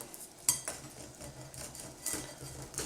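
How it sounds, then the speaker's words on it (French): A knife saws through a dense, firm loaf baked in a Klarstein Country-Life bread machine, giving a few close, crisp rasping strokes with light scrapes and clinks between them. "si je coupe le pain pour avoir une idée de la consistance"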